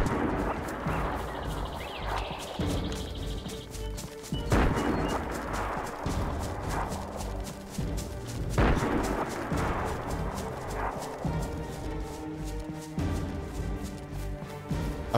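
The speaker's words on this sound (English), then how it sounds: "those shots were close" Gunshots ring out close by in the survival game DayZ, several sharp reports with strong onsets spaced a few seconds apart over a dense, noisy in-game background.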